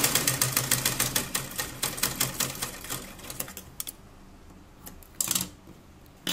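Sewing machine stitching fabric for a child's night dress cap, a fast rhythmic run of needle clatter that slows and stops, followed by a few scattered clicks and handling noises.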